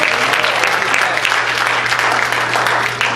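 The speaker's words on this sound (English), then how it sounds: "You don't have to stop clapping." Banquet audience clapping steadily at a church centennial dinner, a dense continuous wash of applause filling the room with a faint low hum beneath.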